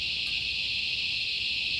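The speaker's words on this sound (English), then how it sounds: "So I just distracted by the cicadas. They're beautiful, but they're bloody loud, aren't they?" Loud cicadas outdoors, a dense continuous high-pitched buzzing drone that stays steady and close throughout, with no voices.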